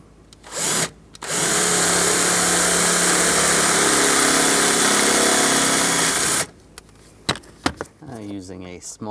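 Close, loud power drill whirring steadily for several seconds as it drills out the second rivet on a 1999-2006 Chevrolet Silverado 1500 glove box latch, preceded by a short burst and followed by light clicks and handling sounds.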